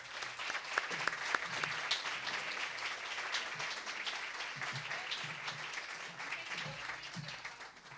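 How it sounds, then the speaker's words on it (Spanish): Applause from an audience at a national university publishing awards ceremony in Salamanca, steady and sustained for several seconds with a few sharper individual claps, faint murmuring beneath. "Un aplauso."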